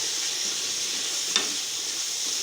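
Tomatoes and garlic sizzle steadily in a hot pan for tomato chutney, a continuous bright frying hiss with one brief sharper crackle partway through, close and with no talking.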